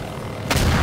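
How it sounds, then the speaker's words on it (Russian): A deep, powerful explosion goes off below in Garry's Mod, a sudden low boom that swells and rumbles through the last half of the moment over steady background noise. "Ой-ой-ой, внизу взрыв какой-то мощный."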